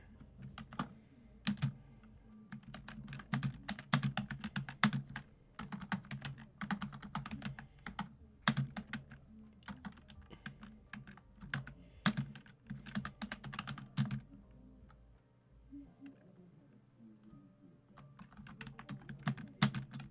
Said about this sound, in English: Yeah, I'm typing my thing.